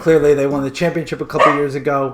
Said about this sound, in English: Is that your dog? Yep, that's my dog.